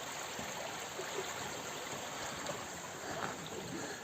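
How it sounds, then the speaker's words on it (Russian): Steady water rushing through a netted channel at a compact trout farm, a continuous broadband flow with no pauses and no voices. "Вода отсюда заходит и туда выходит."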